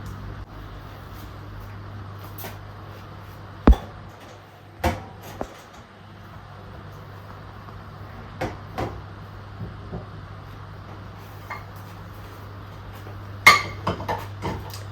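A pan and spatula clink and knock now and then in a quiet kitchen as someone cooks an omelette blindfolded; scattered sharp metallic taps and thuds stand out over a low steady hum.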